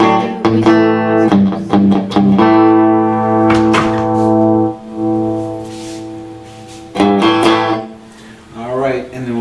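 A 1970 Dan Armstrong electric guitar plays a repeated clean riff, bright sustained chords and single notes ringing out in phrases with short pauses, loud and close.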